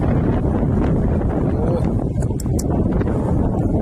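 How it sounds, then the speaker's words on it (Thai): Strong wind on open rice fields buffets the microphone with a loud, constant rumbling roar that stays steady throughout, with faint rustling underneath. "ลมแรงจัดเลย"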